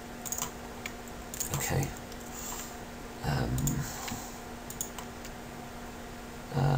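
Computer keyboard keys pressed while working in 3DS Max, scattered quiet clicks and taps with a few short clusters, close and soft against a steady low hum, with a brief spoken word.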